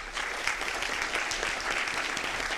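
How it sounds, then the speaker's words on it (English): A room at a Downey city council meeting gives police officers a round of applause, with many hands clapping in a full, continuous burst that fills the space at moderate loudness. "Let's give them a round of applause."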